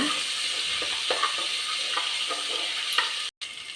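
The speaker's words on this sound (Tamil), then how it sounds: "இஞ்சி பூண்டு பேஸ்ட் போட்டுடலாங்க மஞ்சத்தூள் கொஞ்சம் நல்லா எண்ணெயில் ஃப்ரை பண்ணி விடலாங்க" Steady close sizzling of ginger garlic paste with turmeric frying in hot oil, with faint stirring scrapes and a brief dropout near the end.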